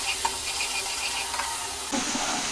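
Spice paste for a cabbage and meat bhuna fries in a pan with onions, giving a soft, continuous sizzle with light stirring scrapes that swells into a brighter, louder hiss near the end.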